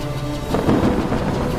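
A stormy sea with thunder: a short, deep rumble swells and rolls over a steady wash of rain- or surf-like noise, fairly loud with no voices.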